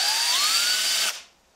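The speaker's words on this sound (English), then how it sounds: "And then I grab my drill motor, and it's got just a brush on the end, and I just give it a primer pocket of cleaning" A handheld electric drill motor spinning a brush inside the primer pocket of a brass .30-30 Winchester cartridge case, giving a close, steady high-pitched whir with slight pitch drift for about a second before it stops and winds down.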